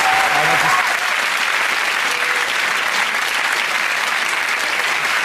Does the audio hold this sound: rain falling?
no